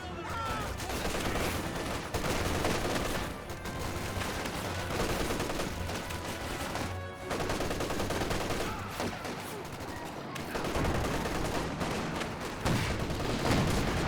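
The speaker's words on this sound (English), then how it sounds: "T-376 firing away" Dense, continuous battle din from a 4v4 Company of Heroes 2 match, with a T-34 tank firing amid constant gunfire, machine-gun bursts and artillery booms, loud and overlapping throughout with no clear single shot standing out.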